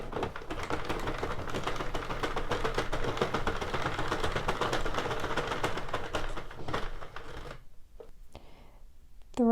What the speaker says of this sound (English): release the yarn into the middle of the machine and go around once without feeding any